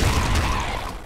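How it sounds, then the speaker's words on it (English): Loud, dense explosions burst in the roguelike shooter Nuclear Throne, a short rumbling barrage that fills the moment with no speech. "Explosions."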